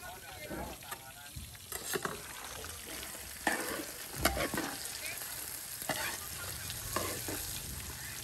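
Food fries in a pan with an uneven sizzle broken by stirring scrapes and clatters, under scattered nearby talk.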